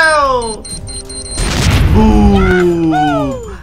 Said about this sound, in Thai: นั่นไงมันกำลังจะระเบิดแล้ว